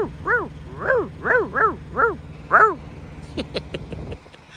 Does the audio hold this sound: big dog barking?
yes